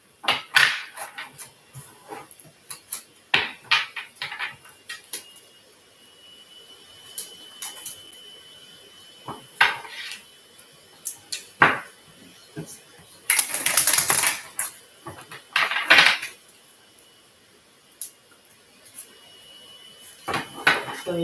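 Tarot cards are shuffled in repeated short riffling bursts with pauses between them, close to the microphone, with someone talking over and between the shuffles.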